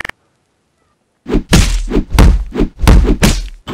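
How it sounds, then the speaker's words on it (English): In the video game Garry's Mod, the ground is broken with a series of loud, heavy thunks and thuds in a steady rhythm, close and alone after a short silence. "ground being broken as well, and Rybo's got a gun."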